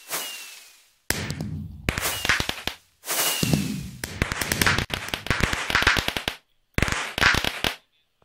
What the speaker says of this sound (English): When did fireworks for achievements become the norm?